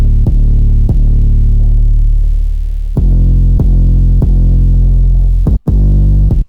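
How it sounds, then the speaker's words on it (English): A second 808 bass for the verse of a trap-style beat made in FL Studio booms loudly in a simple repeating pattern, with punchy attacks, a long sustained note, and one short gap near the end. "Then I use a second 808 for the verse of the beat"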